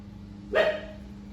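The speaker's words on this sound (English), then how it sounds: "Ignore the dog." A single dog bark rings out once, fairly close, over a steady low hum in a home workshop where a mini lathe is being adjusted; no one speaks.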